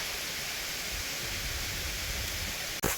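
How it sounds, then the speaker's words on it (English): A waterfall along a via ferrata gorge at Hausbach, Winkl, Austria rushes with a dense, steady broadband roar close by. The sound is unbroken apart from a brief dropout near the end. "Keep going along this gorgeous waterfall."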